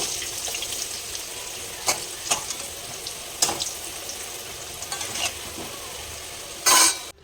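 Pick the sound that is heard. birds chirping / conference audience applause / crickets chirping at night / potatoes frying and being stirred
potatoes frying and being stirred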